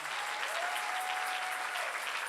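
A church congregation claps together in sustained, even applause that fills the room at a steady level for the whole stretch, with a faint voice or tone threading through it.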